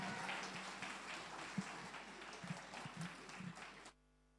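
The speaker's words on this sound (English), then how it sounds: "Give them a hard applause" Audience applause at a cosplay competition during an anime convention: dense, steady clapping from a crowd for about four seconds, then it cuts off abruptly into silence.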